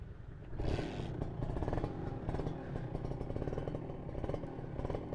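A 2015 Kawasaki Ninja R Special Edition motorcycle with an underbelly exhaust idles and revs close by, its exhaust putting out a steady, throaty rumble with a rapid pulsing rhythm.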